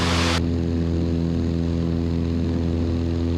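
Small propeller airplane in flight, a loud steady engine and prop drone heard from inside the cabin, continuous throughout with no talking.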